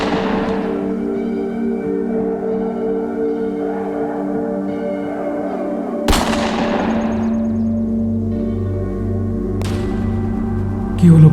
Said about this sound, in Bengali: আমি 3 গুনলেই বন্দুক ছুড়বি।